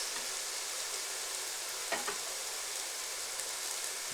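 Onions cook down in a pan with a steady, close sizzle that holds evenly throughout, with a couple of soft clicks partway through and no voices.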